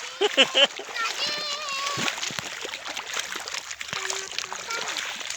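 Small children wading through water beside an adult, with splashing and trickling under lively background sound, children's voices and calls over steady moving water.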